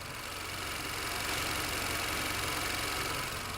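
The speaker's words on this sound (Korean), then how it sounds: "일단 바로 엔진 소리 한번 들려드릴게요." Steady idle of a Chevrolet Malibu's 1.5-litre Ecotec turbo engine with the hood open, a smooth, even hum with light mechanical ticking, close and continuous with no talk.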